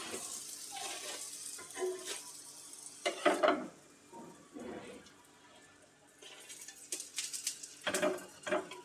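Aloo paratha frying in white oil in a pan, a soft uneven sizzle and hiss that swells and fades in quiet bursts.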